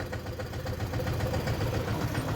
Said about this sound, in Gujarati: ટ્રેક્ટર એટલું ધીમે ધીમે હાલે ને એની વાત પૂછો વાત